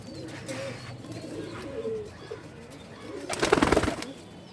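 Male pigeons of a fine bloodline coo steadily at close range, a low, continuous murmur with a louder, noisier burst of activity near the end.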